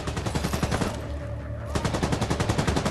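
Rapid AK assault rifle fire in The Division 2: loud, close bursts of sharp repeated shots, with a brief pause in the middle before the firing resumes.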